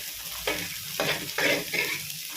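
Carrots, beans, capsicum and spring onion stir-frying in a pan for restaurant-style fried rice: a steady close sizzle, with several scraping stirs that each swell the hiss.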